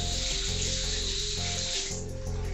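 Tap water runs steadily into a sink while hands are washed, a continuous close splashing hiss with small shifts as the hands move under the stream.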